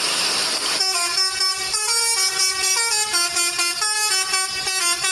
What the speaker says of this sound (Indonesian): ternyata ada bus telolet